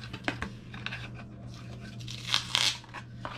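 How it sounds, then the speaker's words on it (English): Blue masking tape rips off a roll in quick, faint tearing and crinkling strokes, with a couple of louder pulls near the end, close and alone. "Got some more blue tape going on."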